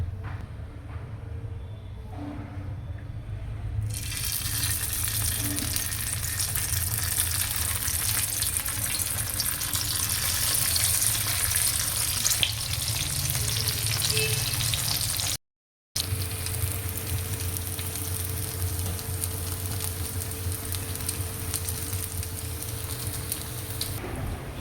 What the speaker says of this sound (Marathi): इथे तव्यामध्ये ना मस्त मी तेल गरम करायला ठेवलंय